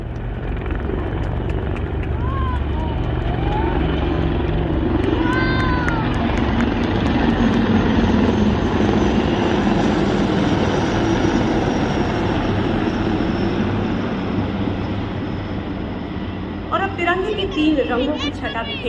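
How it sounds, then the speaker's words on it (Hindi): A formation of Apache attack helicopters passing over the Republic Day parade in New Delhi, a heavy rumbling rotor and engine drone that swells and holds loud, mixed with crowd noise and a commentator talking. "Attack helicopter Apache capable of firing air-to-air and air-to-ground missiles, rockets"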